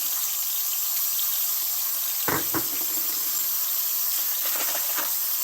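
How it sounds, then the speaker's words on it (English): Hot water runs steadily from a household tap into a sink during home decluttering, a continuous hissing stream with a couple of brief splashes or clatters partway through, no talking. "This water is hot AF"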